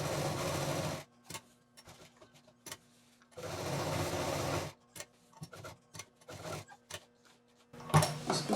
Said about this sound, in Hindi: अब इस लाइन के किनारे किनारे हम मशीन चलाएंगे।